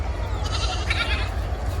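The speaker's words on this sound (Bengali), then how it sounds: "দুইটা ছাগল বাচ্চা আছে" Two short, high bleats from young goats, close by, over a low steady rumble of background noise.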